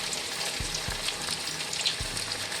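Fish frying in hot oil over a high flame, a steady dense crackle and hiss throughout with a few low knocks from the pan.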